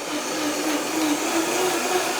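A kitchen blender whirs loudly while making juice, a steady, close motor roar with a slightly wavering pitch as the contents churn, with no talking over it.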